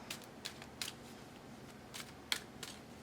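Tarot cards being shuffled make faint, crisp riffles and soft snaps in a quiet room, scattered irregularly through the moment.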